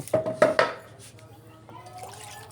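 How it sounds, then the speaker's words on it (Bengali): Dried chepa fish being washed in water: a few quick close splashes and sloshes at the start, then quieter dripping and faint handling noises. "চেপাগুলো খুব ভালো করে ধুয়ে পরিষ্কার করে নিব"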